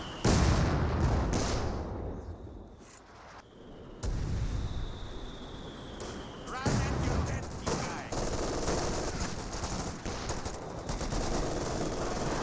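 MG42 machine gun fire from Company of Heroes 2 rattles in rapid bursts amid battlefield gunfire, with a sharp break and resumed volleys, some distant shots layered underneath.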